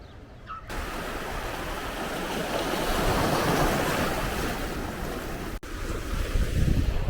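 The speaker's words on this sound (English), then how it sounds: "have come to Camp de Mar, which is a gorgeous beach on the coastline" Waves wash steadily onto the shore at Camp de Mar beach on the Mallorca coastline, a broad continuous surf roar with wind rumble on the microphone and a brief dropout near the end.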